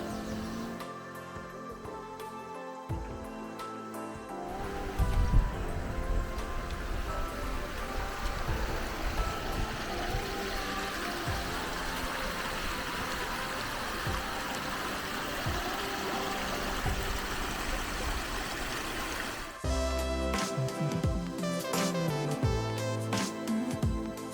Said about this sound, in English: Don't know if you can see, but there's a little waterfall down there.